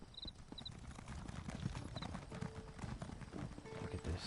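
Horse hooves clip-clop in the video game ESO, a faint, quiet rhythmic trot under ambient game noise with a few small high chimes, no talk.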